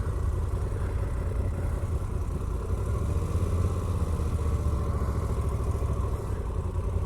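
Moto Guzzi Audace 2018 cruiser motorcycle with a 1400 engine idling, a low steady rumble with a slightly uneven shaking pulse, fairly close and moderately loud, with no talking.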